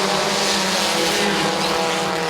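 Race cars accelerate hard at the green flag start of the Farmers Insurance 250, a dense, loud, continuous engine roar from the pack of cars.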